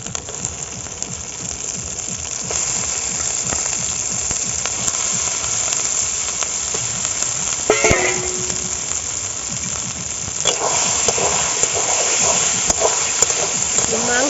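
Raw chicken pieces dropped into hot spiced oil for a curry, setting off a dense, steady sizzle that hisses loudly and continuously, with a brief clatter partway through.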